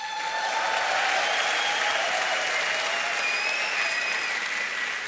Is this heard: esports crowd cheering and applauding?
yes